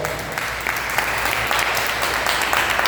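A church congregation claps loudly for Jesus after a sermon, dense continuous applause with crisp individual hand claps, steady and sustained throughout.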